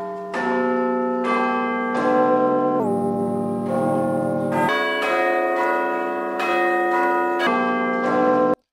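Deep, resonant cathedral bells toll in a slow sequence of overlapping strikes, each ringing out with long shimmering decay, loud and unaccompanied.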